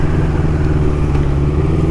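A 1981 Honda CB900F with 36,000 miles idles steadily up close, its inline engine giving a loud, even rumble with a constant low throb and no voices.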